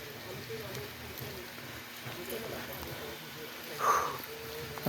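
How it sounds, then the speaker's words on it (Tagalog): Rain falls at a fishpond in Dacuton, a steady soft patter that runs under people talking throughout. "Ulan pa, ulan na nga, ulan."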